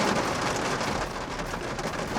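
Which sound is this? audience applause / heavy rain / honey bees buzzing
heavy rain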